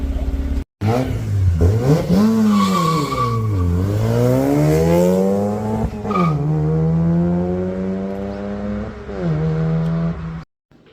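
A Mazda RX-8 rotary engine revs hard through several gears toward 7,000 rpm, pitch climbing and dropping with each shift, loud and close, under steady road noise.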